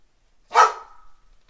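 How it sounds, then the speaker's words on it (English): A single sharp dog bark rings out close and loud against silence, then fades quickly. "Otis, my dog's getting like pissed over here."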